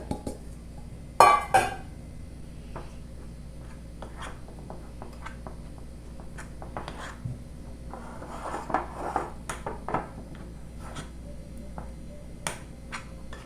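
A spoon works through a thick cheese and ham dough in a bowl, giving scattered clinks and soft scrapes, with a sharp knock early and a busier cluster of taps later.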